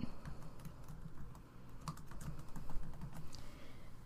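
Rapid typing on a computer keyboard while renaming a file, a steady patter of light key clicks close up, with no voices.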